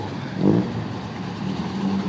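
A Corvette accelerates away from a Cars and Coffee meet, a loud, steady engine roar that swells briefly and then holds, close by.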